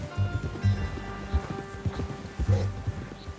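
Horse hooves clip-clop at a walking pace in the Red Dead Redemption 2 game, a close, uneven rhythm of thuds with faint rustling between steps.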